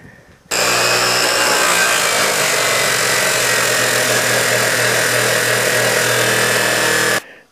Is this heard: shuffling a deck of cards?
no